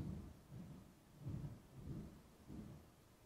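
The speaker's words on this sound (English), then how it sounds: "That was a really weird sounding thunder, right?" Unusual-sounding thunder rumbling in low, rolling swells, several pulses of deep rumble with a rain-like hiss, fairly faint and distant, no talk over it.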